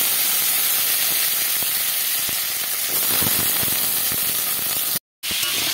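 Vegetables fry in hot oil that was used for frying papad, giving a loud, steady, close sizzle and hiss throughout, cut off for a brief moment near the end.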